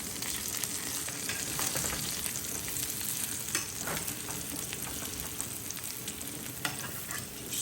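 Venison pieces frying in an ill-suited pan that makes them stick, a dense continuous sizzle broken by scraping clicks as they are turned one after another, close and without speech.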